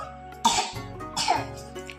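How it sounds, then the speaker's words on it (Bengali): Two short, harsh coughs about a second apart, close up, with quiet background between them and no talking. "কাশি হয়েছে তোমার"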